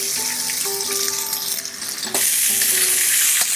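Steak drops into a pan of hot peanut oil and sizzles loudly and steadily, the hiss surging as the meat goes in, with faint tonal hum beneath and no talking.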